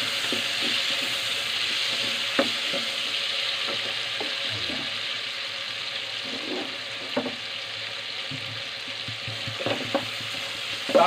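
Tomatoes and vegetables being stirred in a pan for pakbet, a Filipino vegetable stew: a steady sizzle runs throughout, with intermittent scraping and clinking of the utensil against the pan.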